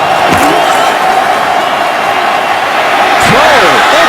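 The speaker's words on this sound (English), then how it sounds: "Tremendous crowd noise at Gillette" A loud, continuous roar from the stadium crowd at Gillette Stadium during a Browns at Patriots football game, a dense steady wash of cheering with a couple of sharp swells, a commentator's voice talking over it.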